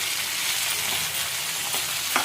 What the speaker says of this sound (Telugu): ఉల్లిపాయలు మగ్గాక రుచికి సరిపడినంత ఉప్పు వేసి కలుపుకోవాలి